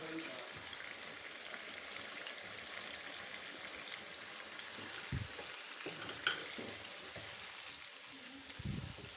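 Garlic paste fries for a chicken shinwari karahi, giving a soft, steady sizzle and crackle from the pan, with a few faint stirring clinks and knocks scattered throughout, heard from a slight distance.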